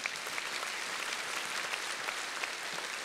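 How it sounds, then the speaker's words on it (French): A church congregation claps together in a dense, steady wash of applause that holds evenly throughout, with no voices heard over it. "applaudissez Jésus de tout votre cœur"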